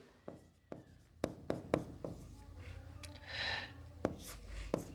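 A pen or chalk writes by hand during a math lesson on quadratic equations, with several sharp taps and short scratching strokes at an uneven pace, close and fairly quiet, without talk.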